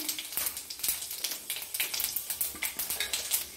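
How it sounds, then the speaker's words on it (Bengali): Panch phoron spices crackle in hot oil in a wok, a quiet, close run of rapid popping spits over a soft sizzle, with no one talking. "আমার কড়াইয়ে তেল গরম হয়ে গেছে, আমি 5 ফোড়ন দিয়ে দিলাম।"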